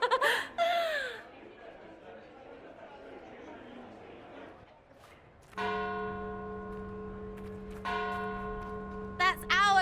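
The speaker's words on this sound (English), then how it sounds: "That's our bells" Church bells ring out in Dragon Age Inquisition, sustained pealing tones that start midway and repeat, following an opening stretch of laughter and talk.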